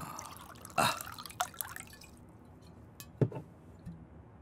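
Liquid is poured into glasses for drinks, heard as a few brief wet splashes and drips spaced apart in a quiet room, with no talking.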